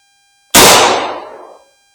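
A single loud, close gunshot from a Winchester 1892 lever-action rifle firing Hornady .44-40 ammunition, a sharp crack that decays over about a second after a silent lead-in.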